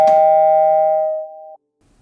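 A single electronic doorbell chime at a front door rings loud and close, its bright tone sustaining for about a second and a half before cutting off into near silence.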